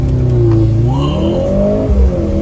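A Mercedes-Benz C43 AMG performance sedan launching hard, its engine roaring close and loud with rising revs and a brief shift partway through, continuous and unbroken without any voices.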